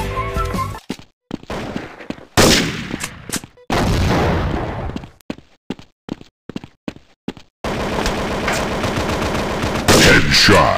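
Rapid gunfire from the mobile shooter Critical Strike Force, loud bursts and single shots separated by short silences, ending in a long sustained volley of automatic fire; no talk.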